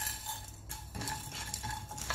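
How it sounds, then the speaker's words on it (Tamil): Cumin seeds and black pepper dry roasting in a kadai for Chettinad chicken uppu kari, with steady scraping and stirring clinks of a metal spoon against the pan over a low continuous sizzle, close and alone. "முதல்ல கடாய் வச்சுட்டு சீரக மிளகு வந்து வறுத்து எடுத்துக்கணும்."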